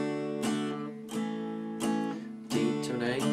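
A guitar plays a riff and chords as four bright strummed chords struck about once every second, close and clear with no talking.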